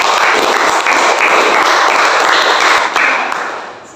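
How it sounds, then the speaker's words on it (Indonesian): Audience applause in a classroom for a presenting student group, dense steady clapping from many hands filling the room, holding loud throughout before tapering off at the very end. "beri tepuk tangan dulu ya"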